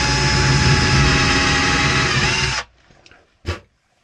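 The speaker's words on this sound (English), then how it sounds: "I'm going to pre-drill." A cordless drill pre-drilling holes in an office cabinet, a loud close high whine held steadily for over two seconds, then stopping, followed by a brief second burst.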